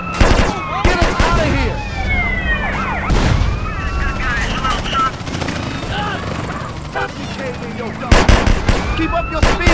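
Drive-by gunfire in GTA San Andreas: sharp bursts of shots open and close the scene, with a helicopter droning and police sirens wailing throughout, and game voices talking over the chaos.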